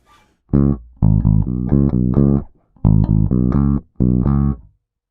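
A bass guitar plays a short, punchy riff of clipped notes in three phrases, clean and close, with gaps of silence between.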